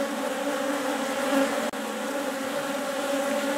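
Dense swarm of honey bees droning steadily around an open beehive, a close, continuous buzzing hum with no talking.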